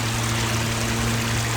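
Water bubbles and trickles steadily from bubbling rocks in a backyard pond and pondless waterfall feature, a continuous close, even wash of flowing water with a faint low hum beneath it and no speech.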